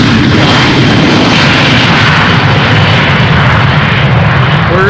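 A jet airliner departs runway 36L at Amsterdam Schiphol with an intense, continuous engine roar at close range and a deep rumbling low end, steady and unbroken, with no voices.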